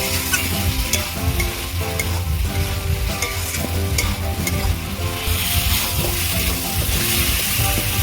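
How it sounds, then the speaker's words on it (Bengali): Fried potatoes stirred into an oily gravy in a pan, giving a loud continuous sizzle with dense scraping stir strokes throughout. "এবার ভেজে রাখা আলুগুলো দিয়ে দেবো আরও কিছুক্ষণ এইভাবে বসিয়ে নেব"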